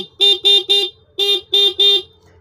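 A motorcycle horn honks six times in two quick bursts of three, short bright beeps with brief gaps, close and loud with no talking.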